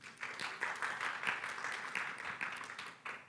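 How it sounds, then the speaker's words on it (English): Applause for a guest at a G20 Digital Innovation Network pitching session, a fairly faint but steady ripple of clapping from a modest audience, lasting a few seconds. "Let's give a round of applause for Mr."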